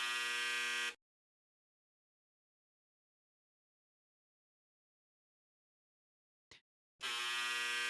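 A harsh electronic buzzer sound effect, like a clothes dryer signalling it's done, buzzes loud for a second, falls silent for several seconds apart from a faint tick, then starts again.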